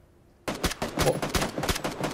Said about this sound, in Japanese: 右の方で銃声。